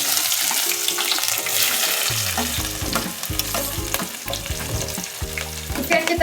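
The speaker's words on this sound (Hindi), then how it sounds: "इसे अच्छी तरह आपको भूजना है।" Finely chopped onions and green chillies fry in a pan, a steady close sizzle overlaid with repeated scraping and stirring strokes from a spoon, with no talking.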